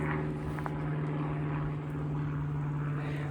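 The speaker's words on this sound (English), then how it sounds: "There is a helicopter coming by." A helicopter passes by outdoors, its steady low rotor drone and engine hum running loud and continuous through the whole stretch, with no voices over it.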